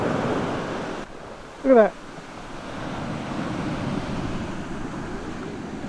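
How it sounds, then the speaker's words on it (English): Ocean surf on Panama's Pacific coast at Costa Esmeralda makes a steady, broad roar of breaking waves, interrupted once by a brief spoken remark. "Yo, these waves are wild!"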